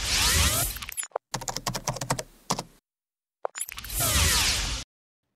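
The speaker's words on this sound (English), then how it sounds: "What I'll do first is type out a super simple script" Rapid typing on a computer keyboard while writing a simple one-line bash script on Linux, a close burst of clicking keystrokes between louder whooshing noise bursts, with no talking.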